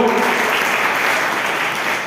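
An audience at a Jain religious discourse claps together in a dense, loud, continuous round of applause that holds steady, with a faint voice at the start.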